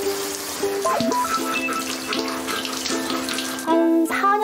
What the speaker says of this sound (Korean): 망고, 이제 씻자 씻자